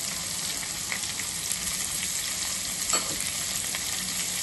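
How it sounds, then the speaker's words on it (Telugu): Shredded cabbage, carrot and beans fry in hot oil for veg hakka noodles, a continuous close hiss of sizzling with faint stirring scrapes and occasional small pops. "బాగా వీటిని ఫ్రై చేసుకుంటాం."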